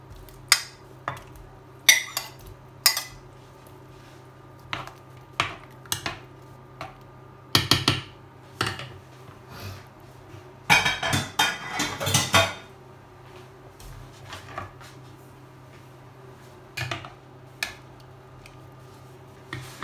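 Meat, mushrooms and carrots go into a pot of blanquette, with a series of sharp metallic clinks and knocks of utensils against the pot, sparse at first and then a dense cluster, over a low steady hum.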